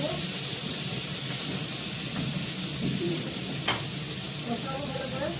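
Tomatoes and salt frying in a pan for chutney, a steady loud sizzle with faint stirring scrapes throughout, close by and continuous.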